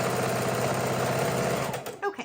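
A sewing machine stitches quilt blocks together for a Halloween lap quilt, running in a steady, continuous fast whir that stops abruptly near the end, followed by a few faint clicks.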